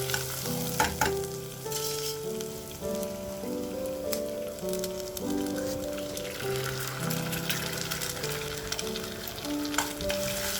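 Onions and eggs fry in a pan with a constant crackling sizzle while being stirred, and a melodic tune plays softly underneath.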